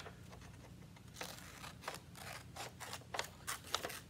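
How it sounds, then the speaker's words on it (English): Scissors snip through strips of paper for a miniature book craft, a series of short crisp cuts coming in an uneven rhythm, close and fairly quiet with no talking. "I only have scissors, so that's what we're gonna use"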